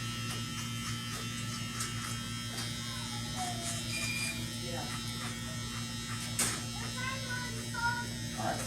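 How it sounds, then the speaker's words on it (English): Electric hair clippers blending a haircut hold a steady close-up buzz throughout, with a constant mechanical drone, while soft talking is heard underneath. "Open my clippers up. Get a nice little blend going."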